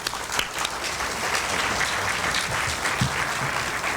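Full room applause at an academic lecture as a speaker is welcomed to the podium, dense and even clapping from a seated audience filling the whole moment with a few louder claps near the front.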